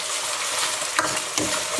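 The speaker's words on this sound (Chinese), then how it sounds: "炒的时候要这样子多翻动" Squid tentacles stir-fried over low heat in a wok, with a steady soft sizzle and brief scraping turns of a spatula near the middle and end, close by, with no talk.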